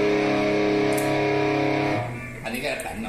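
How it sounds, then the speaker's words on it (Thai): An electric guitar runs through an effects unit on its first preset, sustained distorted chords ringing loudly for about two seconds before fading into a few softer plucked notes. "เอฟเฟกต์ก็ปรับได้อีก3เสียง 3เสียง ต่างหาก นี่คือเสียงแรกที่ผมรู้สึกจะเลือก"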